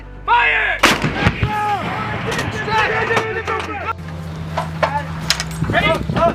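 A giant howitzer fires during a field test, a single huge boom near the start, followed by rumbling decay while soldiers shout commands and talk throughout.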